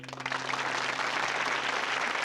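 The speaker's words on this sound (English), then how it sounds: "Town erupts in applause." A town crowd in the cowboy-themed video game Frog Detective 3 bursts into applause, a short steady wash of many hands clapping with a faint low hum beneath.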